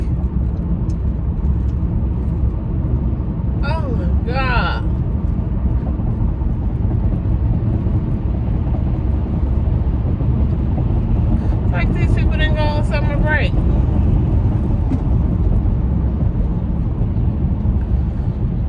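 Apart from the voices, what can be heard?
traffic noise while driving in Los Angeles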